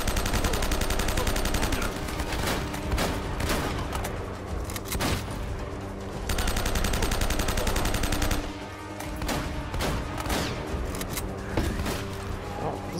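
Enemy gunfire in the video game Uncharted: Drake's Fortune, with sustained volleys of automatic fire and single shots at steady loudness, broken by brief lulls.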